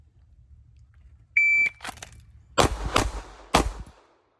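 Three gunshots fired at close range at index card targets on a shooting range, each a sharp loud crack with a brief decay, spaced about half a second to a second apart, preceded by a short electronic timer beep.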